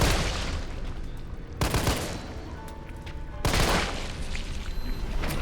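Pistol shots fired at enemies in Resident Evil 3 (2020), three sharp loud reports spaced about two seconds apart, each with a short echoing decay over low ambient game noise.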